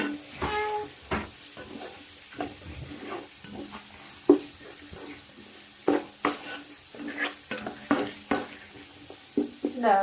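Three large tomatoes in a pot stir and sizzle with repeated scraping strokes and soft clinks up close, over a quiet steady hiss of cooking.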